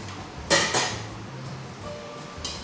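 A pan being shifted on a stovetop in a TV kitchen, with two sharp metallic knocks close together near the start and a lighter clink near the end over quiet background hum, no talking.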